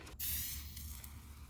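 A GroundWork 1.5 gallon pump sprayer releases a steady, hissing spray that starts abruptly and continues evenly, close by, with no talking.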